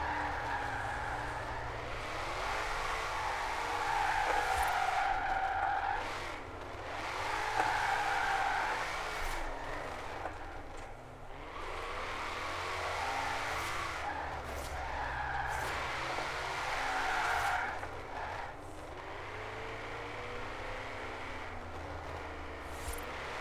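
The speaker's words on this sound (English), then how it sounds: "So using a third gear for drifting is the best way, best gear to learn how to drift." A car drifting in third gear in Forza Horizon 4, played on a Logitech G29 steering wheel, with a steady engine drone and repeated swells of tire squeal rising and easing over about twenty seconds, a voice faintly present at times.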